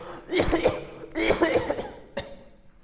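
A person coughs in three separate harsh bursts, close and loud, each a quick rough cluster followed by a short pause, the last one brief and sharp.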